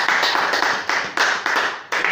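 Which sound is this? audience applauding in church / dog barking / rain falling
audience applauding in church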